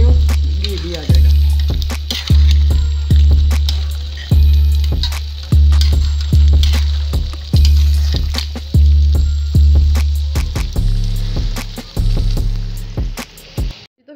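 Potato and egg curry masala fries in ghee in a pan, steady sizzling under rhythmic scraping strokes of a spoon, loud and close, repeated about every second and a half.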